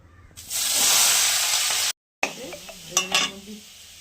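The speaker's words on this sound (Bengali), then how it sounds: "আলুটা ভেজে নেবো একটু।" Potatoes sizzle loudly in hot oil in a pan while ghugni is being cooked: a bright, close hiss that cuts off abruptly, then returns softer with scattered clinks and spatters.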